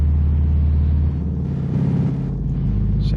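A Ford GT in a racing game, heard as a loud, steady engine drone with a low rumble that shifts pitch slightly as it runs.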